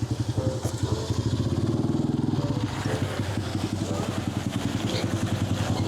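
A motorcycle engine putters close by, idling with a rapid chugging rhythm, then revs and moves as it pulls in, loud and clattery.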